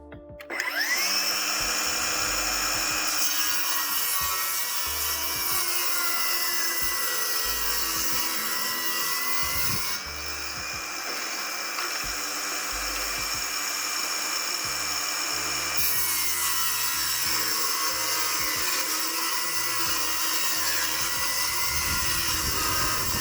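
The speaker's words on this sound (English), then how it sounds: "I need to shave off a little bit, so I'm going to cut a ½ inch off." A table saw spins up and rips half an inch off a 2x4, the blade holding a loud, high steady whine with slight pitch dips as the wood feeds through, for over twenty seconds.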